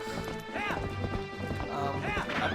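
Horse hooves clip-clop steadily in the video game Zelda: Twilight Princess, layered with game music and horse sounds at a fairly loud, close level.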